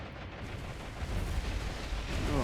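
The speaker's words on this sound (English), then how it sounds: "Go ahead and get its point of view as the bombs come in." Bombs exploding and anti-aircraft flak in a naval warfare game, a continuous dense rumble of overlapping blasts building slightly toward the end, with no distinct single bangs standing out.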